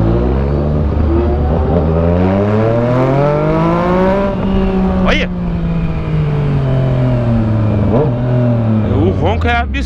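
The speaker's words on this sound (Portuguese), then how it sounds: "É absurdo o ronco dessa moto," A Yamaha MT-09 motorcycle engine revs loudly and close by, its pitch rising and falling in long sweeps with sharp crackles in between; a voice briefly speaks over the roar.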